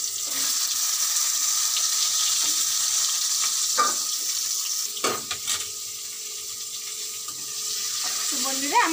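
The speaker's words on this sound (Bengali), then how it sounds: "পটলগুলো ভেজে নেব ওই তেলে" Pointed gourd (potol) fries in oil in a home kitchen, a steady loud sizzle with occasional clinks and scrapes of a utensil stirring the pan.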